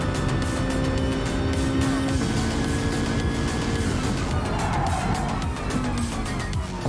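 A 1998 Honda Civic Type R (EK) racing at the Nürburgring in GT Sport: a high-revving engine screams steadily, dropping pitch on gear changes, with tire squeal along the way.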